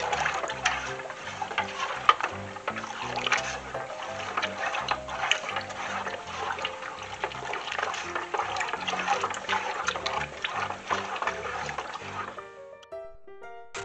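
Milk for homemade cheese is stirred in a pot, a soft continuous liquid swishing and sloshing with faint scraping, close but quiet, ending abruptly; no speech.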